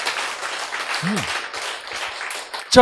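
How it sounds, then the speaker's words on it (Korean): Audience applause in a hall during a spiritual lecture, a steady wash of clapping that swells toward the end while someone briefly speaks over it. "박수! 대박 쳐야지."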